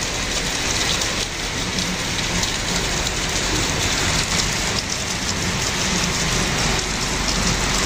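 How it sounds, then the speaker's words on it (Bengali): Steady, dense roar of heavy rain pouring down without a break, loud and close, with no voices. "বৃষ্টি এখন হচ্ছে, খুব জোরে বৃষ্টি হচ্ছে।"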